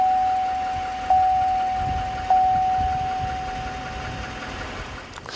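A 2015 Chevy Silverado 3500 HD with a Duramax 6.6-liter V8 turbo diesel runs with a low steady rumble and a thin constant whine, two brief surges breaking the hum, with no talking.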